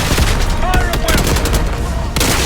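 Gunfire in Call of Duty: Black Ops 6 during a push toward a palace gate: dense overlapping rifle bursts and loud shots ring out close, with a shouted voice and a faint whistle in the chaotic battle mix.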